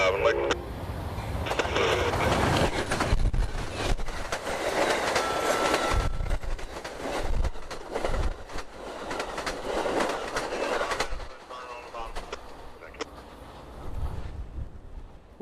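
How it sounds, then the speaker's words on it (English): Amtrak 91, a passenger train out of Tampa, rumbles past at speed while slowing for its Lakeland station stop in central Florida. Loud, continuous wheel clatter and rolling roar swell and ebb, with a voice talking over it. "he'd have to wait on Amtrak 91, now coming out of Tampa, with a full head of steam as he slows for his Lakeland station stop"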